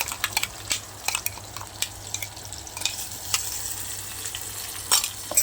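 Masala paste for a bombil and wam fish fry is stirred in hot oil in a pan, giving a continuous sizzle broken by repeated scraping and clinking strokes of a spoon, with no talking.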